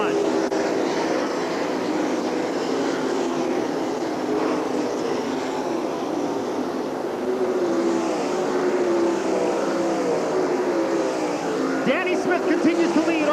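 Sprint race cars in a 1997 All Star Circuit of Champions race at Eldora Speedway roar continuously around the dirt oval, a steady dense engine drone with cars passing, under a commentator's voice calling the race.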